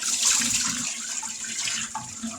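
Tap water runs steadily into a kitchen sink while beans are rinsed, a continuous close splashing hiss with no speech over it.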